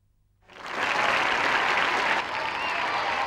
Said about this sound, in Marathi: नाही नाही, टाळ्या वाजवण्यासाठी नाही म्हटलं मी